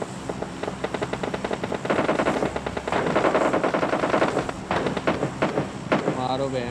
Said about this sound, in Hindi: पीएच और उसकी फाइट हो रही पीछे तुम्हारे।